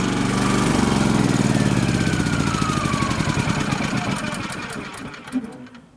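A Champion 3500 watt dual fuel generator running on propane sounds a steady, loud mechanical drone that drops in pitch and winds down toward the end as it shuts off, with a faint whine sliding downward.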